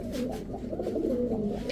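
Low, continuous throaty cooing from silver putul gorra pigeons, steady and close, a soft rolling murmur without pauses and with no one talking.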